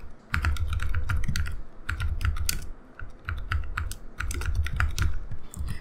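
Steady typing on a computer keyboard, close and fairly loud, with rapid bursts of key clicks separated by brief pauses and no talk.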